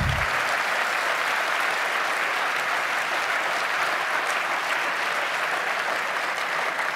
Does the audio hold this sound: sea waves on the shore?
no